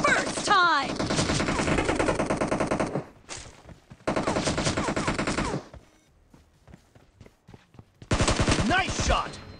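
Bursts of automatic gunfire in PUBG Mobile rattle loud and close in long sustained volleys, broken by short gaps with scattered single shots before another heavy burst.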